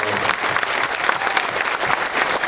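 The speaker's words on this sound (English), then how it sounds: "a huge round of applause for Lloyd and the rest of the guys from Texas" An audience at the Alamo Drafthouse cinema gives a sustained round of applause after a Texas Frightmare Weekend cast appearance, dense clapping with a faint murmur of crowd voices.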